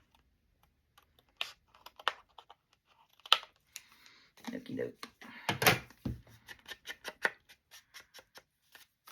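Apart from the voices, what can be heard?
scissors fussy cutting 110-pound cardstock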